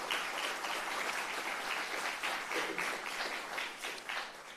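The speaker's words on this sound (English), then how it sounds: "so we give them a round of applause, please" Audience at a university athletics hall of fame ceremony applauding the event organizers, a broad, fairly distant wash of many hands clapping that holds steady and then eases slightly at the end.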